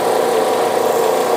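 A homemade edge sander with a 9 ft belt runs steadily, a continuous mid-pitched motor drone and belt hum with slight fluttering vibration, loud and close with no pauses.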